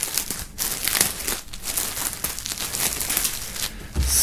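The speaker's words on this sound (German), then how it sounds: "werden wir auch hier mal die Folie abmachen." Plastic film wrap crinkles and crumples steadily as it is peeled off an album and a tracksuit, with close, continuous rustling and brief tearing bursts.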